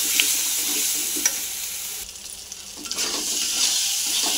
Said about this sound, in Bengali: মশলাটাকে ভালো করে ভেজে নেব তেল ছেড়ে আসা অবধি।